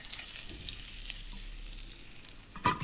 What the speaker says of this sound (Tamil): லோ ஃப்ளேமில் வச்சு வதக்கி எடுக்கணும்